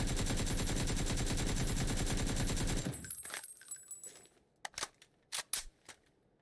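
Rapid automatic gunfire from PUBG on console, a loud sustained burst that cuts off abruptly, followed by a few scattered sharp shots and clicks against near silence.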